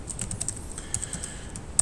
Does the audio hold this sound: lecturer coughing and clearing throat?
no